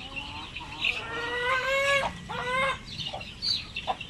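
Backyard chickens cluck in a steady, close chorus of overlapping calls and squawks, with no talking, around feeding time when they are given soaked leftover rice mixed with commercial feed.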